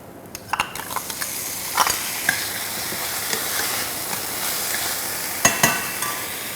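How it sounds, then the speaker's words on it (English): A diced potato is stirred into a beet and yogurt soup mixture in a pot, giving a steady soft wet bubbling hiss with a few sharper scrapes and knocks of the spoon against the pot. "Give the mixture a nice stir"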